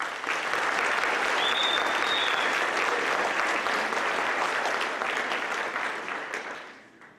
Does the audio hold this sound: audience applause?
yes